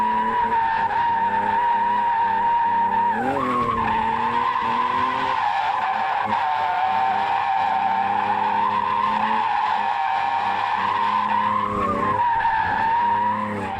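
Long, continuous tire squeal from a Nissan 350Z drift car sliding in circles doing donuts and figure eights, pitch wavering as the engine revs rise and fall, loud and close.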